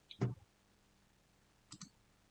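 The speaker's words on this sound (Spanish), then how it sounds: "concluyendo con un clic en el botón Añadir" Two quiet computer mouse clicks, a sharp one near the start and a softer double click about a second and a half later, against near silence while working in Moodle.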